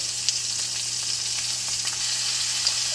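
Ribeye steaks seasoned with salt, pepper, garlic and onion powder sear in a hot pan, giving a steady, close, dense sizzle with faint crackles and pops throughout, no voices.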